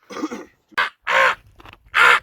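A person imitates a crow with a voice, giving a series of four or five harsh, nasal caws close up, the later ones longer and louder, separated by short pauses.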